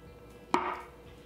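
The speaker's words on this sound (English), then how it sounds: "And cut it into fry shapes." A knife cuts through a potato to make fries, one crisp, close chop against a cutting board in a quiet kitchen.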